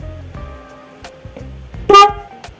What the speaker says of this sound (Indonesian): Kita uji coba yang bass yang ini ya. Suaranya seperti apa kalau menggunakan satu klakson.